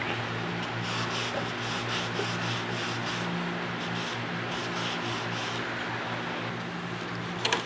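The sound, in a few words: scrubbing wooden baseboard with pad and denatured alcohol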